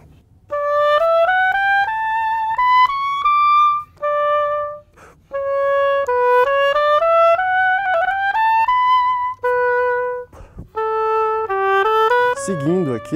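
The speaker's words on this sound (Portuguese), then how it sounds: "Esse instrumento aqui é o oboé." An oboe plays a solo melody of clear, reedy sustained notes, stepping up and down in pitch with brief pauses between phrases. It sounds close and fairly loud with no accompaniment.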